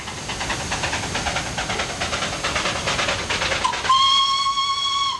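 Darjeeling Himalayan Railway steam locomotive and train with a relief loco at the rear, rhythmic chuffing and hiss that gives way to a loud, sustained whistle near the end.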